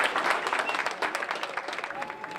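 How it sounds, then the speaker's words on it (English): Applause from a dinner gathering at a restaurant, a short round of many hands clapping that swells early and then thins out, with faint voices mixed in. "Let's give Fred and the James a great round of applause for their efforts here"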